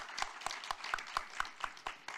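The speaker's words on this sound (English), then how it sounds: "Let's give them a big round of applause." Scattered clapping at a formal review meeting and press conference for committee members. The claps are distinct and spaced at a steady rhythm, fairly faint, with a thin room murmur behind them.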